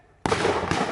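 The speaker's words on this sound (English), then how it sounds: "Give me some covering fire." Covering fire from blank-firing weapons during a D-Day battle reenactment at La Fière Bridge erupts as a sudden, loud, close burst that sustains as a dense crackling roar.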